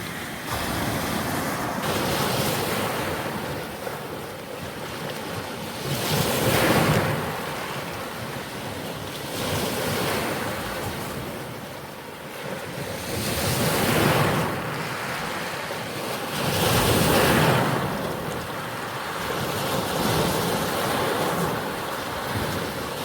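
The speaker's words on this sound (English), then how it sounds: "I think you can sit and listen to these waves all day long." Waves breaking on a rocky Lake Superior shoreline, surging in repeated swells every few seconds with rolling wash between, alongside wind noise against the microphone.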